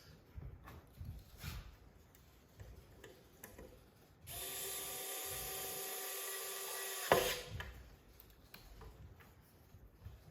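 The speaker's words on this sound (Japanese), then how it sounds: "ベッセルの充電式のドライバーです。" A Vessel rechargeable electric screwdriver drives a strap pin into a ukulele, giving one steady motor whir of about three seconds that ends in a sharp click, amid quiet handling knocks and rattles before and after.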